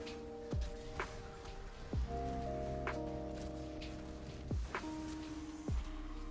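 Deathbringer orbs in Destiny 2 rain down on an enemy as a handful of sharp, spaced impacts, about five distinct hits, each trailing a falling tone over a quiet, steady game hum.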